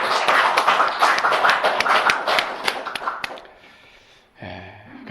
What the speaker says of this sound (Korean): 하나님께 영광의 박수 다시 한번 드리겠습니다.